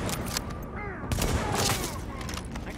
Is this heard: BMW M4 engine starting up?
no